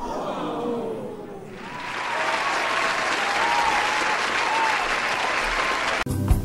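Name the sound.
clapping applause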